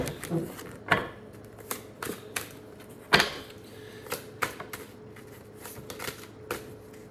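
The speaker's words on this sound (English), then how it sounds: "let me just shuffle the cards" Tarot cards being shuffled close up, a steady papery riffle with soft rhythmic slaps and taps, fairly quiet throughout.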